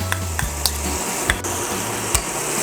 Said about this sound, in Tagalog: haluin lang natin siya